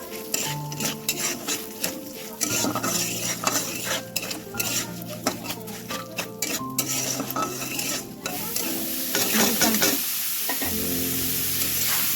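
Aromatic Gobindobhog rice frying in a pan for pulao, with constant close stirring, a spoon scraping and clattering against the metal, and an ongoing sizzle that swells louder near the end.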